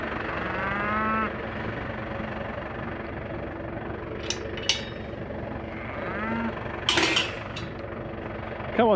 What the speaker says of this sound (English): I think we're going to let the cows